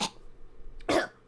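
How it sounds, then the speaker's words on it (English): Someone coughs twice, a short sharp cough at the start and a fuller, throaty one near the end, close to the microphone with quiet between. "I didn't mean to cough sarcastically."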